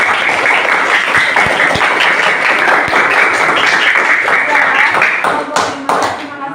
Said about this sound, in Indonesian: kita beri aplaus buat kelompok 5 sama Rido yang sudah menanggapi